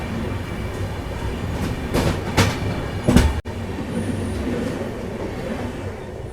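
Malwa Express sleeper-class train rolling toward Ambala, a steady rumble of wheels and carriage with rhythmic clacking bursts in the middle, heard from inside the coach with no talk.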